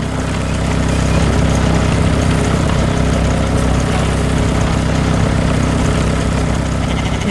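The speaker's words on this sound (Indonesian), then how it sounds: "Mesin pertanian hijau sedang bekerja keras di tengah sawah, menanam benih dengan rapi dan cepat." A green farm machine works a rice paddy while planting seed, giving a loud, steady mechanical drone with a low engine rumble that never lets up, close by and with no voices.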